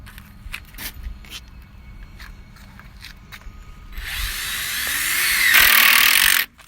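A power drill drives a screw into a wooden wall stud while a house frame is built, a short clicks and knocks lead-in followed by a loud rising whine that runs for about two seconds and cuts off sharply.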